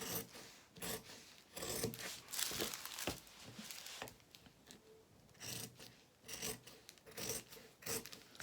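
Scissors snip and rasp through fabric, cutting straight pieces for a Luna Lapin dressing gown, in a series of close, quiet strokes with short pauses between cuts.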